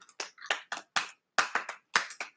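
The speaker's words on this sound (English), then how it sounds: "give me a clap" Hands clap about ten times in an uneven rhythm, sharp and close, with brief silences between claps.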